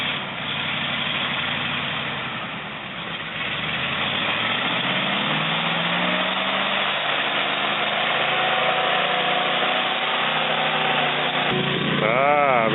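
A heavy Zil truck's engine labours and idles loudly and close by during a winch recovery of a stuck vehicle, rising in pitch near the end as the revs climb.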